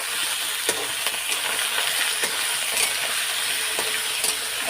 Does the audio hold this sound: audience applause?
no